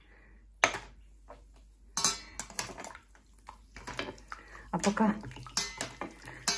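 Three small teaspoons, yellowed from coffee and tea, are dropped into a pan of cleaner, giving a few separate metallic clinks and clatters while someone speaks quietly.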